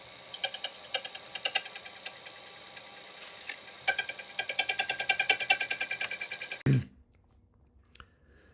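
Milling machine cutting a 1.5 mm deep slot into a small screw for a precision suspension block, a rapid rhythmic ticking chatter that grows steadier and louder before the cutter stops with a brief thud, then near silence.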